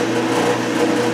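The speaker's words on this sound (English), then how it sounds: "all I need to do is just drill a hole in it and burn it off" A drill boring a hole in a metal lathe part, a steady high-pitched whine that holds level for about a second, with no talk over it.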